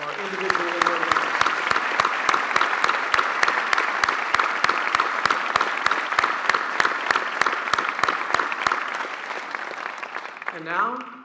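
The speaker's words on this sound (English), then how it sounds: "how about a round of applause for all of our individual award winners?" Audience applause for individual award winners at a presidential awards ceremony, with steady, loud, dense clapping from a crowd throughout, tapering off as a voice starts speaking at the end.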